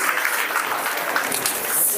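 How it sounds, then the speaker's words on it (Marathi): An audience claps at a teachers' award ceremony, a continuous spread of applause at moderate loudness that carries the whole moment, with no clear talking over it. "एकदा जोरदार टाळ्या वाजवून आपण"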